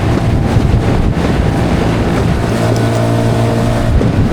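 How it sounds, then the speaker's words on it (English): Loud wind roars and buffets the microphone on a fishing boat at sea in wind and rain, with a steady low motor-like hum underneath throughout. No one speaks. "she's definitely very windy and rainy"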